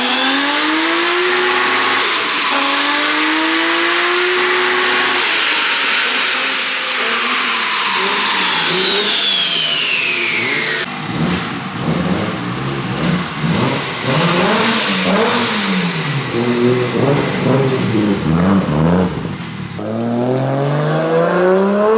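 A modified Toyota JZX car with a JZ engine revs hard while being driven, pitch sweeping up through the gears and then dropping. The engine stays loud and close, with wind and road noise under it and no voices.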